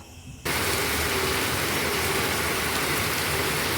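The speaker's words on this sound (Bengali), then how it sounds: "তো প্রচণ্ড জোরে বৃষ্টি হচ্ছে।" Heavy rain pours down in a dense, steady roar that starts abruptly and stays loud and even throughout.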